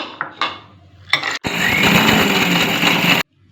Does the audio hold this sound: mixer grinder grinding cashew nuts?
yes